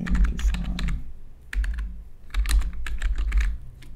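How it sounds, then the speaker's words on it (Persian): A command is typed on a computer keyboard in close, brisk bursts of key clicks. The bursts come in three runs separated by brief pauses, and no one speaks. "این دستور رو من میخوام تایپ کنم"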